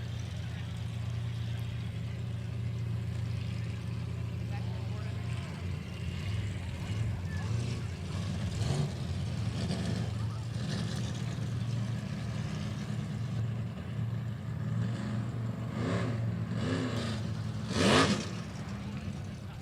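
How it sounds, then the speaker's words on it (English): Several jet sprint race boat engines in the 400 class idle and rev at a qualifying event, a steady low drone with rising throttle blips and a louder surge near the end, under someone talking. "So you can hear the engines revving for our 400 class as we make our way to the 400 class round of qualifying"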